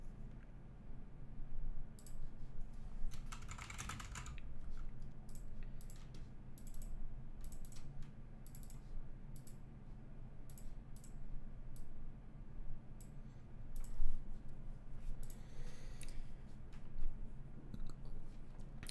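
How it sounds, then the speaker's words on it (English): Close, soft keystrokes and clicks from a computer keyboard and mouse come in irregular bursts over a steady low hum, with no voices. "we're gonna click new. We're gonna type in Linux Mint."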